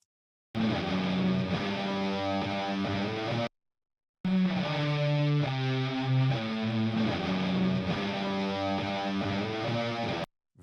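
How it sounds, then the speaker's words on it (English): Distorted electric rhythm guitars and chorus guitars play together in a mixed rock track, sustained chords ringing loud and dense, with a brief dropout of silence near the middle before the guitars return. "we've got last chorus guitars, which presumably take over for these rhythm guitars."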